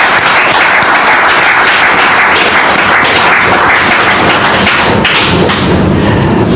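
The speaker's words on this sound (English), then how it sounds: "Can we all applaud for the moment" A crowd at a product launch event bursts into loud, sustained applause, dense and close, with heavy thumping claps running unbroken throughout.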